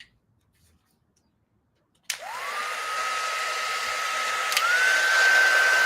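A heat tool switches on after a couple of seconds of silence and blows steadily to set paint, a close, rising whine with a rushing airflow that continues to the end.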